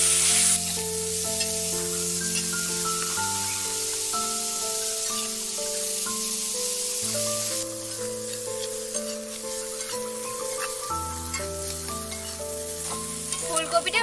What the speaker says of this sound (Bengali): আমি ফুলকপিটাও কিন্তু লাল লাল করে ভাজবো।